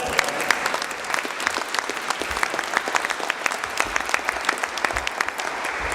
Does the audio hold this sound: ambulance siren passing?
no